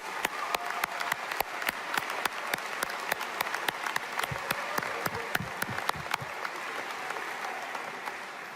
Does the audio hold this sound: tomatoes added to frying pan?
no